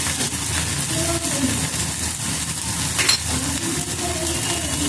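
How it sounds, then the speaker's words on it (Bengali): Egg and boiled tarka are stirred in a pan over a soft, continuous sizzle, with scraping strokes and light utensil clinks against the pan. "ডিম দিয়ে এটাকে ভালো করে নেড়ে নিচ্ছি।"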